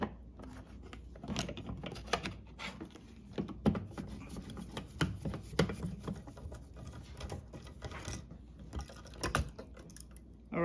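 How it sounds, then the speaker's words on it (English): A small screwdriver works at a light switch cover plate during dimmer switch installation, giving close, faint scratching, tapping and clicking scrapes in irregular bursts with no talk. "just take a little screwdriver and take the cover off"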